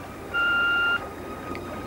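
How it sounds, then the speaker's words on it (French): An answering machine gives a single clean electronic beep lasting about half a second, standing out loudly over faint room hiss. "Vous parlez après le bip."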